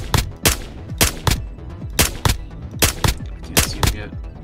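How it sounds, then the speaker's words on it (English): Rapid bursts of close, loud gunfire ring out in the Roblox survival game Aftermath, with repeated sharp shots in quick irregular clusters and almost no talking. "I'm gonna start shooting."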